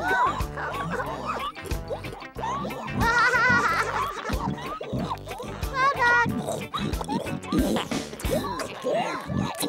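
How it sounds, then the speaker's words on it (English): Cartoon pigs at breakfast in a farmyard grunt and oink repeatedly, mixed with squeals, clatter and playful musical sounds, the noises busy and close throughout. "Good morning, pigs."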